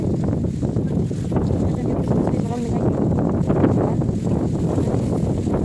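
Strong wind gusts buffet the microphone on the peak of Tai Mo Shan mountain in Hong Kong, a steady low roar, with a person talking over it.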